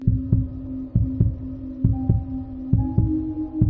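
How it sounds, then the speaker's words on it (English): A steady heartbeat throbs close and alone in paired thumps, a lub-dub pulse repeating about once every 0.7 seconds beneath a low droning hum, with no voices. "Only her heartbeat was perceptible to her ears."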